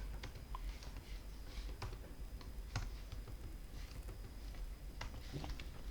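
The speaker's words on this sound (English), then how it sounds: "Okay, so I'll just type data." Faint, scattered keystrokes tap on a computer keyboard in short irregular bursts against a quiet room hiss, with no talking.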